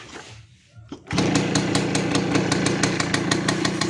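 Yamaha motorcycle engine kick-started and then running, a quiet scuffle and kick followed by the engine catching abruptly and settling into a loud, close, fast rhythmic idle putter.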